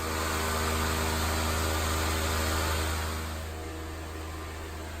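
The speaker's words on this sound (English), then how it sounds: "We also have an industrial fan blowing and sucking air out of the shop" A loud industrial fan blows air out of a shop, a steady broadband whoosh over a strong low hum that eases slightly toward the end.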